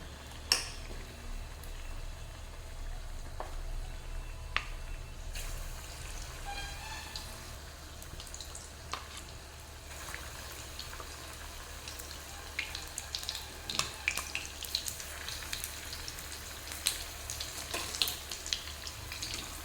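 Battered fritters sizzle and crackle in hot oil in a home kitchen, a soft, steady frying hiss with scattered pops, fairly quiet and close, with no talking.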